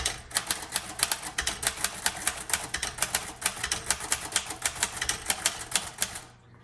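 Keys strike rapidly on a 1935 Royal Model O typewriter, a close series of sharp metallic clacks in an uneven typing rhythm that stops abruptly near the end, with no talking.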